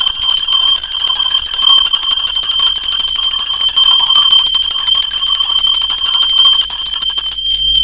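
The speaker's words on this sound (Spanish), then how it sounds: "Va campana, ser divino," A bell rung continuously, loud, bright, sustained metallic ringing that holds steady throughout and cuts off near the end, with no talk.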